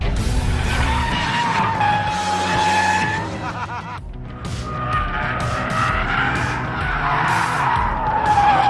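Car tires squeal loudly in long skidding slides, with an engine roaring underneath, pausing briefly before the screech resumes.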